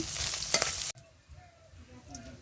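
Cumin and potatoes hit hot oil, a loud hiss and crackle that cuts off abruptly, then a quieter low sizzle continues.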